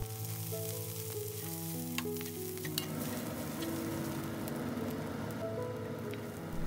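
Oil heats in a wok after dry-frying preserved mustard greens, a soft continuous hiss of crackling fat with occasional small pops, faint and even throughout, with a low tonal hum underneath and no voices.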